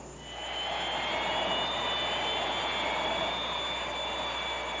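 A Lockheed S-3 Viking naval jet aircraft roars steadily, its engine whine rising quickly and then holding as a loud sustained jet rumble with high tonal whistles.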